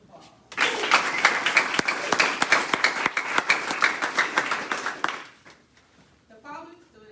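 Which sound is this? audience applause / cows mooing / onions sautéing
audience applause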